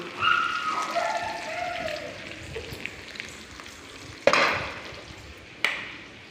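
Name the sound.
sautéing ingredients in a pan for mustard kuzhambu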